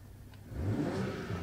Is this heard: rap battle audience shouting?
no